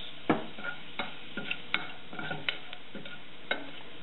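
Red chilies and crushed garam masala of cinnamon, cardamom and cloves cook in a pan, giving soft crackles and stirring scrapes with scattered clicks, quiet and close, with no talk.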